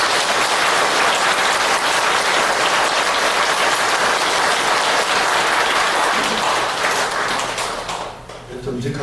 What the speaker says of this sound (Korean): 커다랗게 격려의 박수를 보내주시겠습니다